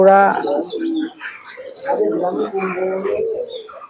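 Teddy pigeons coo in soft, rolling calls close by, a few overlapping bursts with brief chirps between them, while a voice speaks at moments.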